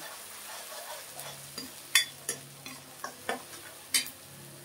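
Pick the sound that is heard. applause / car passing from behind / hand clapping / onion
onion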